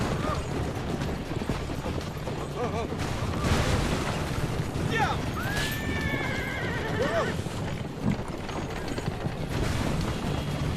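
Horses pulling a carriage in the Assassin's Creed 2 video game, with several loud whinnies over a busy mix of hoofbeats, game effects and music. The sound stays dense and continuous.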